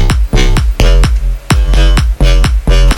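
A distorted bass riff processed with a short left-right delay on its high end plays as a fake stereo widener, mixed with the original bass; clipped, rhythmic notes hit hard and loud, with no voices.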